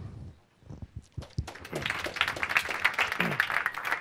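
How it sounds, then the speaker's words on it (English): Audience applause for a speaker at a Growth Hackers Sydney event, starting after a brief lull and swelling into steady, dense clapping that fills the room for several seconds. "give a big round of applause to Esteban Martinez"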